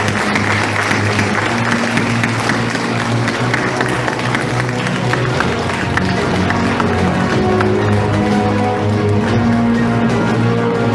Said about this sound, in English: Will we have a round of applause?